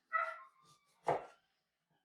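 A young dog, no longer quite a puppy, gives a whining yelp, a sharp single bark, then a faint start of another whimper, close by in a home kitchen where salsa is being made.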